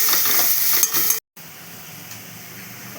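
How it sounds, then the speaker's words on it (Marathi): Tomatoes sautéing with softened onions in a pan, a bright close sizzle and stirring for about a second before a brief cut, then a quieter steady fry continuing alone. "आता ह्यात आपण टमाटर टाकूया. याला बी चांगलं आपण परतून घेऊया."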